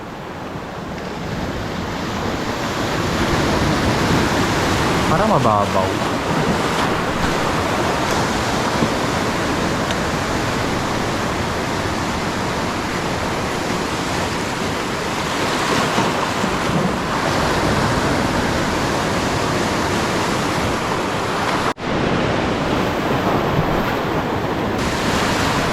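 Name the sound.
ocean waves breaking on shore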